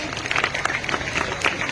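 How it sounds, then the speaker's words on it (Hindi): A short burst of applause from schoolchildren at a high school Independence Day program, many hands clapping in an uneven, moderately loud patter with faint background voices. "mister Sheikh round of applause बच्चों"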